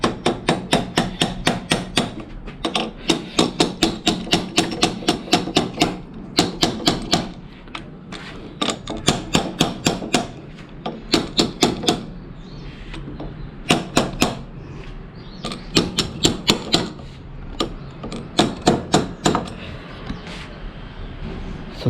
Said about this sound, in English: take a wrench or anything which has this rubber thing at the back, and tap.